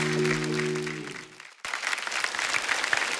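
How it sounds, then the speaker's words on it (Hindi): A studio audience at a comedy show bursts into loud, dense applause after a short musical sting cuts off. The clapping is close and sustained with no speech over it. "जोरदार ताली हो जाए वीआईपी भाई के लिए"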